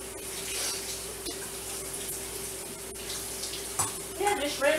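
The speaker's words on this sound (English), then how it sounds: "Yeah, just rinse all of it everywhere. It takes a few minutes." Running tap water rinses food in a kitchen sink, a continuous hiss with a steady hum underneath and a few splashes and clatters near the end.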